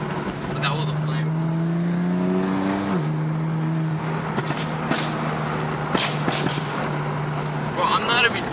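BMW M4 with a flame tune runs with a steady low exhaust drone, its pitch rising and dropping, and sharp crackling pops and bursts near the end, loud and close, with voices over it.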